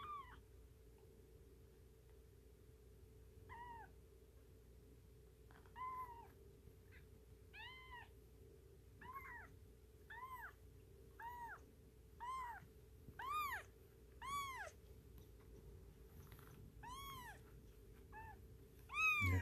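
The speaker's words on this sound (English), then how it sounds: "Only one kitty." A single kitty meows repeatedly, high and clear, in a string of short calls that grow more frequent and louder over time, above a faint low background hum; no purring stands out.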